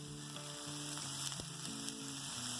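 Ingredients sizzle lightly in a pan with a soft, steady hiss. Faint tonal music plays underneath, and there is one brief knock of a utensil midway.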